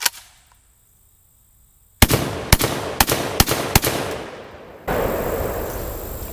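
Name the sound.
rapid fire from JTS M12AK shotgun on light loads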